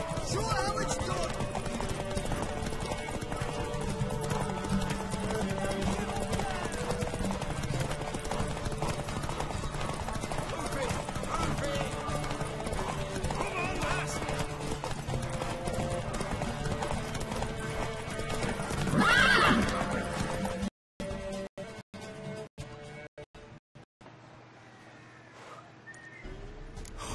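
Horse hooves clip-clop steadily in a video game, with an occasional whinny, under ongoing game dialogue and music that drops out abruptly near the end.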